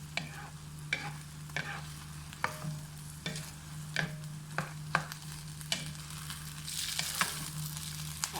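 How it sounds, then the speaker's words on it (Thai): Khanom jeen rice noodles with egg and dark soy sauce being gently stir-fried, a soft continuous sizzle with regular light taps and scrapes of the spatula against the pan, with no voices. "แล้วเราก็ผัดเบาๆนะคะ ผัดเบาๆ"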